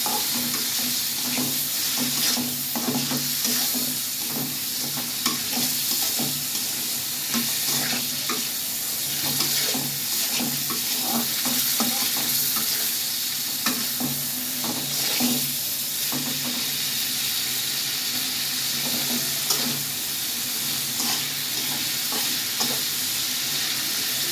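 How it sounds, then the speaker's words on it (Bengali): Pan of vegetables and bottle gourd being stirred and sautéed with dried hilsa and tilapia pieces, a steady sizzle with scraping spoon strokes throughout, close and fairly loud, no voices. "আর সবজিটা দিয়ে আরেকটু কষিয়ে নেব।"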